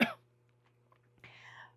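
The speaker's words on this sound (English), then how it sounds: "excuse me, I'm gonna cough." A single sharp cough bursts out close up at the very start, then fades to near silence with a faint breathy rustle later on.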